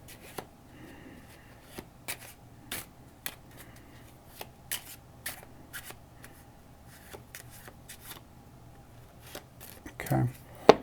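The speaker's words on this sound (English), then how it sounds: "I'm going to go through and I'm going to do 3 overhand shuffles" Deck of playing cards given overhand shuffles, a series of short crisp riffling slaps at irregular intervals with a louder flurry near the end, quiet and close, with faint talk in the background.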